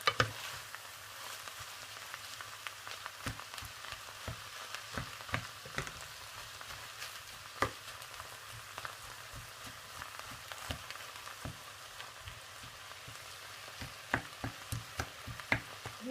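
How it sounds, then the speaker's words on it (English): Minced meat for a ragout frying in a hot pan, a steady close sizzle with irregular crackles and pops running throughout, no voices. "turn the heat up and put in all the minced meat"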